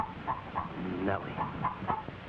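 Hen clucking in a family comedy film version of Jack and the Beanstalk, a quick series of short, close clucks with a few drawn-out squawks in between.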